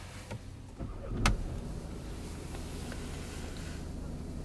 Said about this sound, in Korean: 시동을 켜볼게요.